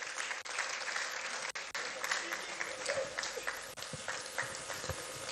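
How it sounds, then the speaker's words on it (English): Audience applause at a ministerial press briefing for the Federal Ministry of Industry, Trade and Investment, a dense steady clatter of many hands lasting throughout, fairly loud and close with a few brief dips. "I believe we can make the applause a bit louder."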